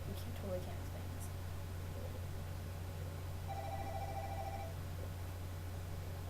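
A telephone rings in a hotel room, a short faint electronic trill heard once over a steady low hum and background hiss.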